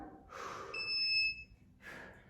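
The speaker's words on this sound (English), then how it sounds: "don't worry about that buzzer" During a weights workout, an electronic buzzer sounds once as a steady high tone lasting about half a second, faint, set between heavy breathing sounds.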